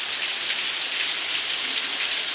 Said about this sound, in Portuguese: Chovendo aqui na praia.